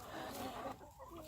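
Backyard chickens clucking softly near the feeding area, a short burst of low clucks heard close and faint, with no one speaking.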